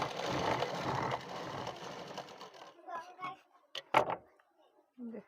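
Sewing machine stitching a suit sleeve, a fast whirring run of stitches that fades into a few short clicks and knocks as the fabric is handled, fairly quiet and close.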